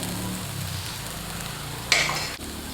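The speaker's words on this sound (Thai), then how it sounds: "ผัดกระเทียมพริกแล้วก็ รากผักชีให้หอมก่อนครับ" Garlic, chili and coriander root stir-fry in a pan, a steady close sizzle broken by a sudden loud burst of spattering near the end that quickly settles.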